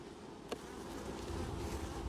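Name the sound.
honeybees buzzing at the hive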